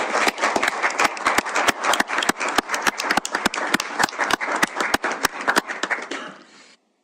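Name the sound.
council meeting audience applause for Kevin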